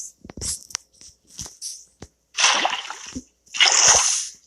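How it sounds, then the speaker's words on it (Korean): Flowing water in the Minecraft Skyblock game: two longer gushing, splashing bursts that follow several short clicks and taps, fairly close and with no talk. "당장 이거 물 흐르는 거 막아봐"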